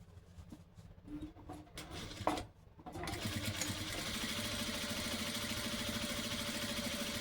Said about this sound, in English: I always backstitch going on and coming off just because I don't want this to come loose